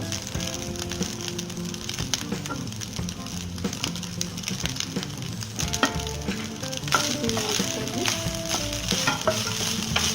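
Vegetable fried rice with onion sizzles steadily in a hot pan while a spoon stirs and scrapes through it, with soft clinks and crackles throughout, fairly quiet and close.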